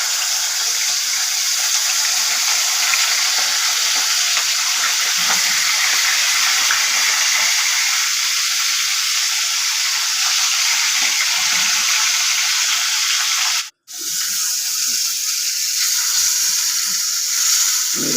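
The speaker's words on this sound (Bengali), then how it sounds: "তেলটা এসে গেছে, এবার কড়াইয়ের মাছের মাথাগুলো দিয়ে দিলাম।" Fish heads frying in hot oil in a wok, a loud, steady hiss and crackle of sizzling that carries on continuously and briefly cuts out once before resuming.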